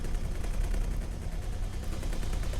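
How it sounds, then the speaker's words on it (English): Ship weapons in the X4 space game pound a storage station, a dense, continuous rumble of rapid low booming fire with crackling texture, steady and loud with no pauses. "Now we're firing on the storage"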